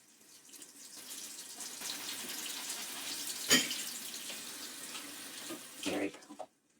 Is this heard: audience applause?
no